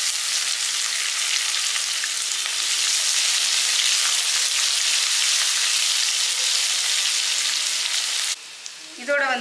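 Chopped onion frying in a hot pan for a Tamil millet dish, a loud steady sizzle running continuously, with a brief stir and a soft voice at the very end.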